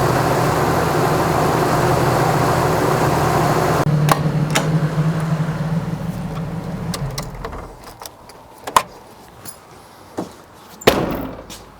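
A Jeep engine idles steadily while warming up to operating temperature after a thermostat install, a constant low rumble that fades midway, followed by a few sharp metallic knocks and clanks nearby.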